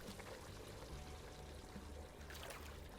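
Gun part lowered into a hot bluing tank in the Gunsmith Simulator video game, giving a faint, steady liquid pouring and bubbling wash with no talking.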